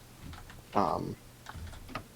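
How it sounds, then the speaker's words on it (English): Brief burst of computer keyboard typing, a short cluster of key clicks at close range, with faint background noise and no talk. "go and fiddle with your keyboard"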